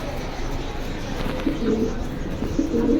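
Pigeons coo in soft, low, repeated calls at a bird market where pigeons are sold. The calls come in short bursts over a busy background murmur.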